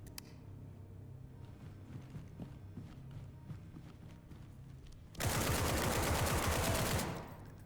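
A quiet stretch of small ambient game noises gives way to a loud, sustained burst of full-auto AK rifle fire in SCP 5K, lasting about two seconds before cutting off.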